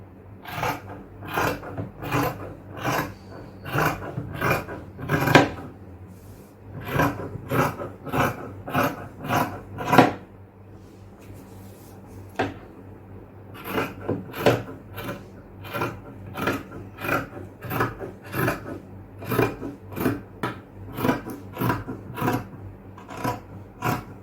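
Scissors cutting nighty fabric on a tailoring table, a close, rhythmic series of crisp rasping snips in bursts, pausing briefly near the middle before resuming, with no talk.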